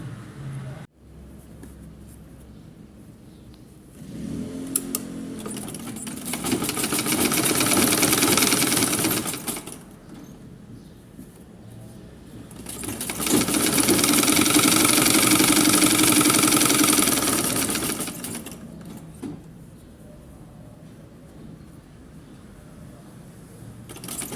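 A sewing machine stitches a summer gandoura with bias trim. It runs in two steady, close buzzing bursts of several seconds each, with quieter pauses between them.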